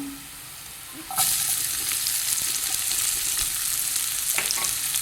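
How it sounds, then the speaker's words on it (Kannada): Chopped onion hits hot oil with browned garlic in a pan, breaking into a loud, steady sizzle after a quieter moment and frying continuously with occasional stirring scrapes. "ಅದನ್ನು ಹಾಕೊಂಡು ಸ್ವಲ್ಪ ಫ್ರೈ ಮಾಡಿಕೊಳ್ಳುವ"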